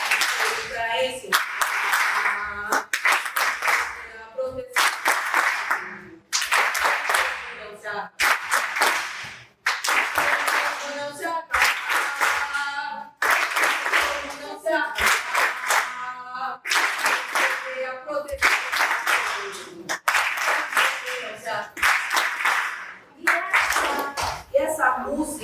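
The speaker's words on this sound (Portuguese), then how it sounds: "E essa música, ela vai sendo cantada aos sons das palmas" Rhythmic hand clapping keeps a steady beat under voices singing a jongo song, close and lively, pausing briefly between phrases.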